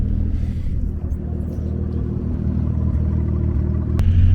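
An Audi RS3 sits at a drag race, giving a loud, steady, low engine rumble close by with no talk, and the rumble swells slightly toward the end.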